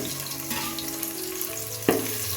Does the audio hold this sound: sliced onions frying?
yes